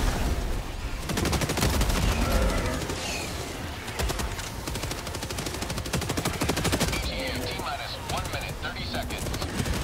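Rapid automatic gunfire from a machine gun in the video game Helldivers 2, loud and dense bursts running through most of the stretch, with heavy explosive booms and chatter of combat layered in while players talk over it.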